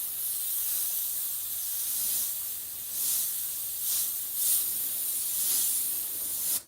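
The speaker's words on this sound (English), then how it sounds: "when you're painting on fabric surfaces with an airbrush, your lines are pretty much permanent" An airbrush hisses continuously while spraying paint onto a fabric hat, a steady close airy spray that swells in short pulses as the trigger is worked.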